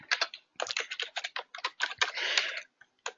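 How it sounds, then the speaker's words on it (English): Fast, close typing on a computer keyboard as a web address is entered, with bursts of crisp key clicks broken by short pauses and a few final taps. "Let me just type that in."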